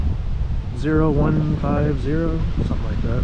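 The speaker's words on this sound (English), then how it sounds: "that wind's very chilly" Strong, chilly wind buffets the microphone outdoors with a steady low rumble, while someone talks over it throughout.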